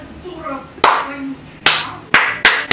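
Hands clap four times close to the microphone, sharp and loud, with uneven gaps between the claps.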